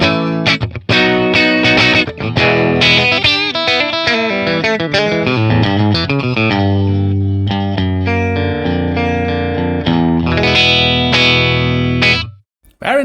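Electric guitar played through a Matchless Laurel Canyon amp capture on ToneX, pickup selector in the in-between position: loud, bright strummed chords and picked notes ringing out, then stopping abruptly near the end.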